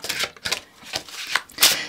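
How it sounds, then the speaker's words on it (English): A heavy, floppy tarot card deck is shuffled by hand in several quick, close riffling bursts with short pauses between them, the last burst the crispest. "I'm going to keep doing some shuffling."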